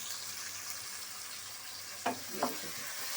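Onions browned and freshly added tomatoes fry in a pan for minced meat, a steady sizzle running throughout while a spoon stirs, with two brief louder scrapes near the end.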